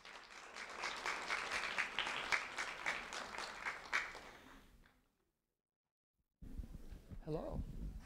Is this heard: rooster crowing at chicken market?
no